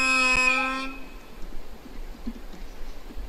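A Pendolino train arriving at Hlubow station in the Roblox Train Simulator game: a short tonal horn blast opens, then fades into a faint, low rolling rumble.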